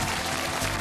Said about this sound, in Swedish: Stort jubel!